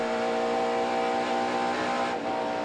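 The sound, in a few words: NASCAR race car engine accelerating at Calder Park Thunderdome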